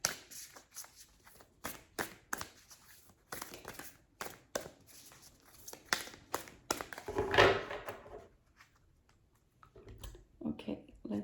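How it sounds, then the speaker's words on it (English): Rapid riffling and tapping of tarot cards in irregular bursts, with a person talking at points between the shuffles. "I do want to shuffle a bit more."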